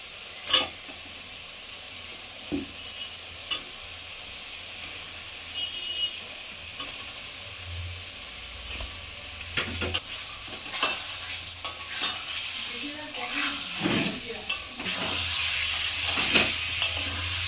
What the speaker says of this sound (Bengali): একটু ভালো করে কষিয়ে নেবো তরকারি আলুগুলো।